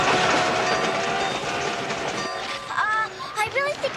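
A runaway train in a televised Alice in Wonderland production rumbles loudly with dense, steady rail noise, then gives way to sharp high squeals and whistle-like tones in the final second or so.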